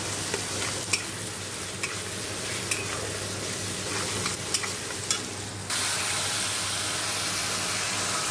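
Onion, tomato, green chilli, salt, turmeric and a little sugar sizzle in a pan under steady hissing, and a spoon scrapes and taps the pan at regular intervals. The sizzle turns louder and fuller near the end.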